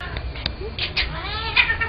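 A cat meows and caterwauls in several short, insistent calls, close by, over a steady background hum.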